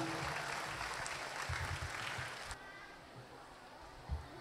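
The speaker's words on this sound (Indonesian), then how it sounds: "Ayo, tepuk tangan untuk Bunda Kailah." An audience claps at a Qur'an graduation ceremony, a soft, distant wash of applause that fades after a couple of seconds into quieter room noise.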